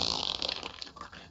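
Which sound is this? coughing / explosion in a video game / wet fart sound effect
wet fart sound effect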